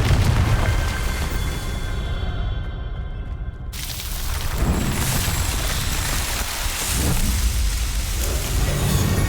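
A Confringo fire spell blast cast during combat in Hogwarts Legacy, a loud, sustained explosive boom with crackling rumble that fills the clip, swelling again in later bursts.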